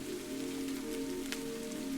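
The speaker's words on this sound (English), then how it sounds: "As you listen, the rain shifts, becoming softer," Soft, steady rain pattering on olive leaves at night, a continuous gentle hiss with faint scattered drops, no voices.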